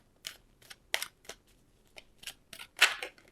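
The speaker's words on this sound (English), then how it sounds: "As I'm shuffling the cards" Tarot cards being shuffled by hand, a run of quick crisp riffling and snapping bursts at irregular intervals, close and fairly quiet with no talking.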